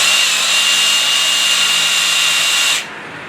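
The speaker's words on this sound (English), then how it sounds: "a way to sand it here." A power sanding tool grinds against a smelted silver round in a shop, a loud steady high-pitched whir that runs continuously and cuts off abruptly near the end.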